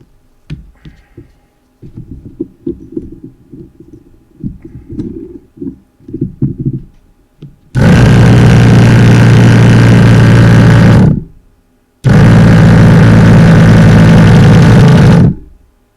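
A portable air compressor inflates the front tire of a HiBoy X300 electric scooter, running in two loud, steady bursts of several seconds each with a short pause between, after some quiet handling clicks and thumps.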